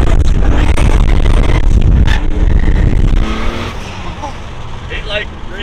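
A Nissan S14 Silvia car accelerates hard, its engine roaring loudly from inside the cabin before easing off, with people talking over it.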